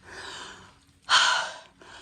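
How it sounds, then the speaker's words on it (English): Heavy breathing from a solo backpacker hiking uphill in the Great Smoky Mountains near Abrams Creek, with a long exhale, a pause, then a sharp loud gasp-like breath and another exhale starting, close to the mic. "this is where I'm going to start breathing heavy"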